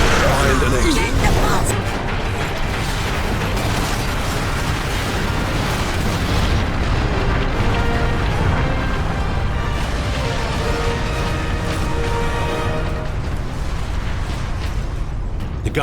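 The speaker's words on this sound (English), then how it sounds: "Better off seeing this fortress detonate." A fortress detonates in Warhammer 40K Space Marine, unleashing a loud, sustained roaring rumble that is strongest in the first couple of seconds and then rolls on steadily, with voices heard amid the din.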